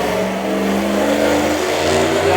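A loud car accelerating away, a continuous heavy engine roar with rising harmonics that stays strong and dense throughout, close and unbroken.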